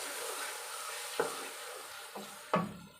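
Marinated goat liver tipped into hot masala and stirred, giving a steady soft sizzle with three sharp scraping stir strokes up close, and no talking.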